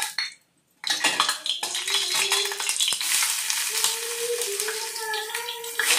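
Pumpkin frying in ghee in a kadhai over a high gas flame: a steady, close sizzle with scattered scrapes and clinks of a spoon stirring through the pan.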